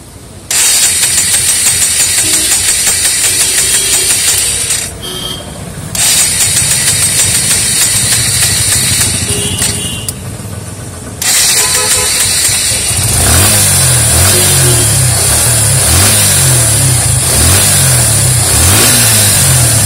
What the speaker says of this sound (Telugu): ఇంజన్ వార్మప్ చేసే వచ్చా.